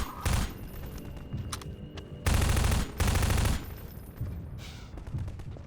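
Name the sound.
enemy gunfire in the video game Half-Life 2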